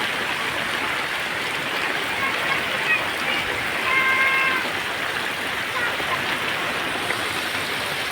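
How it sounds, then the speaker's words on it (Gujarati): Heavy monsoon rain pours steadily with water rushing and flowing nearby, a dense, continuous hiss throughout, with a faint high tonal chirp partway through. "વરસાદ તો સારો ચાલુ થઈ ગયો પાણી બધા આવેલા જાય છે"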